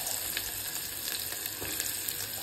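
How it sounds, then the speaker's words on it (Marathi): Onion sizzling and frying steadily in hot oil with cumin, mustard seeds and asafoetida, a dense continuous hiss with faint stirring, close and fairly loud with no talking. "आता कांदा टाकते."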